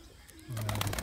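Rampuri pigeon cooing close by, a short soft throaty coo that begins halfway through with a low steady hum.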